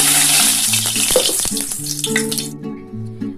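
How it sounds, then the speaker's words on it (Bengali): Eggs fry in hot oil for an egg curry with cauliflower and potato, a loud bright crackling sizzle with a few stirring clicks that cuts off abruptly partway, leaving soft tonal music underneath. "এবার আমি হালকা করে ডিমগুলো ভেজে নিচ্ছি"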